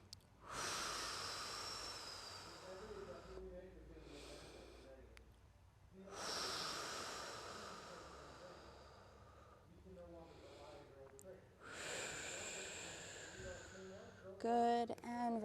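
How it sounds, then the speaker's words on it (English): Slow, deep breaths during a seated yoga flexibility stretch, with three long broadband exhalation swells separated by pauses and a faint voice near the end. "Take a few deep breaths."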